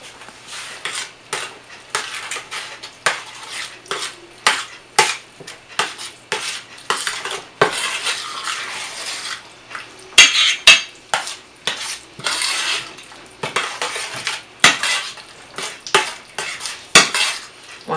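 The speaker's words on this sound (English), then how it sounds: "And then we're going to stir." Chili mix with brown sugar and chili powder stirred in a pot, a spoon scraping and clinking against the metal in repeated strokes, close and clear with brief pauses and faint sizzling.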